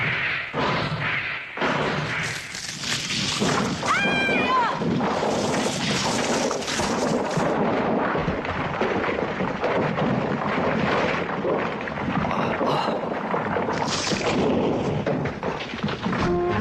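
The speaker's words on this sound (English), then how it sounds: "Thunder rumbling in the depths of the earth." Deep, continuous rumbling like thunder rolls up from underground in an animated adventure, loud and sustained for the whole stretch with swelling surges and scattered sharper crackles, no talk.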